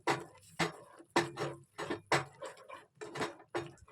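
A utensil knocks and scrapes in a pan as biscuit crumbs are stirred into a Mughlai paratha filling, giving a close, irregular series of about a dozen sharp clatters with no talk.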